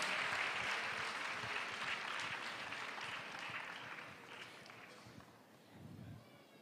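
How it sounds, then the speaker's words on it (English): A crowd at a World AIDS Day celebration applauds steadily for the Nyamagabe Health Center, a dense clapping wash that slowly thins toward the end. "Reka tumuha amashyi mu gihe ari kuza."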